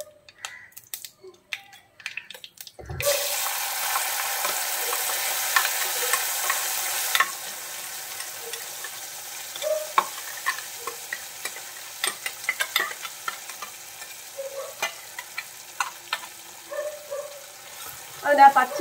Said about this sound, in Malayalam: അതിൻ്റെ ആ പച്ചമണം മാറുന്ന വരെ നന്നായിട്ടൊന്ന് വഴറ്റിയെടുക്കാം.